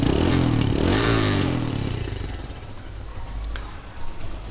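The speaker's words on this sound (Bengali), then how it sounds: "ইঞ্জিন সাউন্ডও সুন্দর।" A TVS Stryker 125's single-cylinder air-cooled engine rumbles close and loud, then eases off to a lower idle-like drone.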